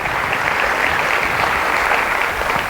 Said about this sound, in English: So give our librarians a round of applause.